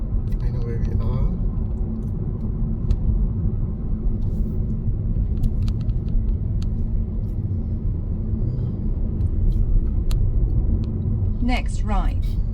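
A 2026 Toyota Camry cruising on hilly roads, a steady low road rumble and engine drone filling the cabin throughout, with faint ticks and a brief voice near the end.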